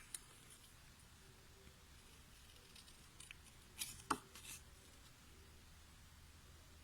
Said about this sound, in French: on va venir couper les parties qu'on a hachurées